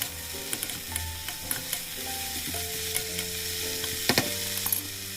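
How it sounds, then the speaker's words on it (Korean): Paprika and scallions hiss and crackle in a hot pan for japchae, with a steady sizzle and light clicks and scrapes of a spatula tossing the vegetables, no voices. "파프리카, 쪽파까지 다 넣어서 달달 볶아서 휘리릭 볶아주세요"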